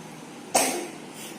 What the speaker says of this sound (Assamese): কাহটো ভাল পাই যাবা দেই.